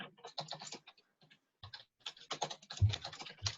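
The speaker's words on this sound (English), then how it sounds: "Because somebody is typing away." Someone types on a computer keyboard, giving quick clusters of close, crisp key clicks with short pauses between bursts.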